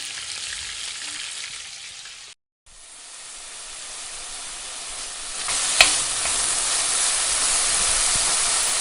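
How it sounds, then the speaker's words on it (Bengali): Chicken marinated in yogurt is sautéed in a handi pot for dhaba-style handi chicken, a steady close sizzle and hiss that briefly drops out, then builds louder with a sharp crackle, no speech. "চিকেনটা আমি এখানে 5 থেকে 7 মিনিট একটু কষিয়ে নিচ্ছিলাম।"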